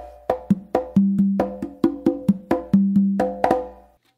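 A short run of conga hits in a bomba pattern, with soft ghost notes and quick flams among open tones, played alone and fading out at the end.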